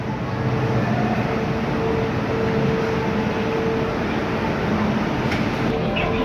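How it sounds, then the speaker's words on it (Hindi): A train at Hong Kong Ocean Park gives a steady, loud rumbling hum with faint tonal whine, continuous and close, and no talk over it. "तो ये वो ट्रेन जिसमें हम बैठेंगे अभी।"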